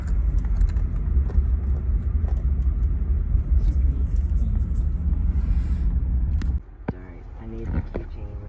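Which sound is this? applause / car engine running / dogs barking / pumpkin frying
car engine running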